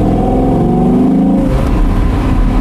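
A 2017 Audi R8 Spyder V10, 540 hp and naturally aspirated, accelerates with a loud, steady, harmonic engine note that rises in pitch, heard from inside the car with no talking.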